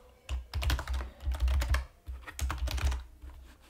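Quick, steady keystrokes clatter on a computer keyboard close by, in two busy bursts separated by a short pause.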